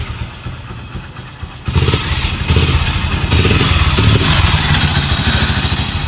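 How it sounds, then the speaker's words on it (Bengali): A Hero Splendor Plus BS4 motorcycle engine with a fault runs with a knocking inside, first a quieter clattering idle, then a louder revving chug that stays rough and close throughout. "ট্যাং ট্যাং ট্যাং ট্যাং করে বাড়ি খাচ্ছে ইঞ্জিনের ভিতরে"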